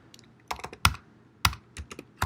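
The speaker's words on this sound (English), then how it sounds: "I'm going to type in" Clusters of sharp clicks from a computer keyboard as someone types, a few quick keystrokes in irregular bursts, close and clear against a quiet background.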